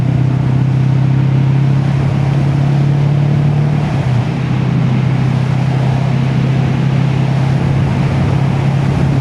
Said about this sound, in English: we've got some traffic coming up on me